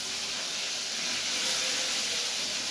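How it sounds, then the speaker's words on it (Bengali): Tomato added to a hot kadai frying pan, a loud, steady, broad hiss of sizzling with no pauses and no voices. "একটু টমেটো দিয়ে দিল কড়াতে"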